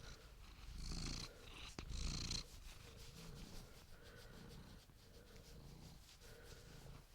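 A cat purrs close by, a low rumbling purr with a couple of louder swells early on, then softer steady purring with faint rustling, and no talk.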